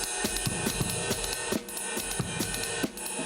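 Unpredictable bebop drum patterns played on bass drum and snare, with irregular kick thumps and sharp snare hits scattered over a steady cymbal wash, close and fairly quiet.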